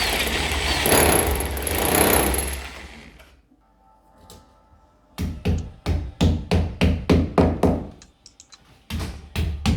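A power drill bores holes into a wall for mounting a sliding glass door rail, starting with a loud sustained grinding burst, then a quiet gap, then a rapid run of sharp, evenly spaced hammering knocks close by.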